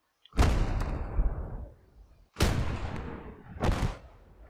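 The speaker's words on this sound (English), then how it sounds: "So now I have a free artillery battery." Three heavy artillery shots from a battery in a Battle of Kursk war game, each a loud close blast with a long rumbling decay, spaced about a second or more apart.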